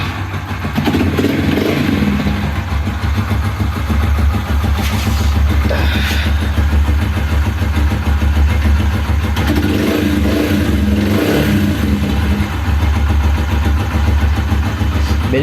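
A Yamaha YBR motorcycle engine, just fitted with new piston rings, runs loud and close at a steady, even idle throughout, with a few faint clanks and no talking.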